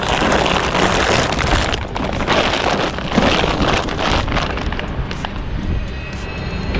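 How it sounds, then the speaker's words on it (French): Strong wind blowing outdoors in Paris in winter, a loud continuous broadband rush buffeting the microphone, steady throughout with slight surges. "il y a beaucoup de vent"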